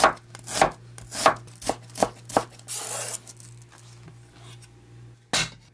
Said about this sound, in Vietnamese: Đầu tiên mình băm hành tím, củ này khoảng 10g. Sắc và mình băm nhỏ ra ha.